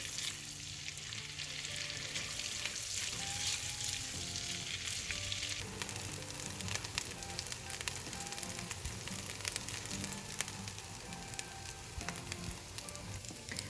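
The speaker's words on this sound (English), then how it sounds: "So now we're gonna mix this until the garlic and ginger is a nice golden brown color." Garlic and ginger paste frying in a pan, a continuous crackling sizzle with the scrape and clatter of stirring running throughout, fairly close and with no talking.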